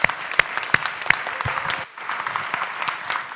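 Steady audience applause at a collegiate invention competition finals for the Invent Oregon staff, dense and fairly loud throughout, with a few sharper nearby claps and a brief dip partway before continuing.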